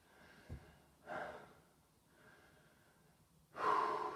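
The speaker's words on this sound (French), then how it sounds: "Laisse ta respiration revenir naturellement." Slow, quiet breaths after exercise, lying with a cheek resting on the floor, settling back into a natural rhythm: a soft exhale, a fuller breath, a faint one, then a stronger rush of air at the end.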